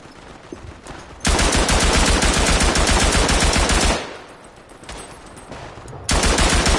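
Machine gun fire from the WW1 video game Tannenberg comes in two loud, sustained rapid bursts, each a dense stream of shots, with quieter distant rattling in the gap between them.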